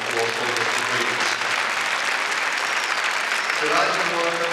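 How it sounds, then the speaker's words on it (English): An indoor audience at the Crufts 2008 dog show claps in sustained, even applause that fills the whole stretch at steady loudness. "And do give a round of applause for all of our awesome contributors."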